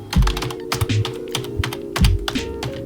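Someone types on a full-size Keypro SK108 keyboard with a numpad and a broken space bar stabilizer, producing close, irregular bursts of clacking keystrokes with heavier thumps.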